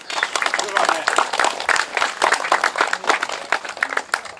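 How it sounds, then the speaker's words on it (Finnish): Applause at a Finnish sports event after the results are announced: a crowd clapping steadily with dense, continuous hand claps over a few seconds, some voices mixed in. "Siitä aplodit totta kai."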